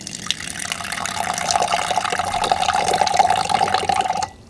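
Water drains out of a bottle through a vortex hole in a steady, rushing gurgle that holds loud and fairly constant, then cuts off abruptly at the end.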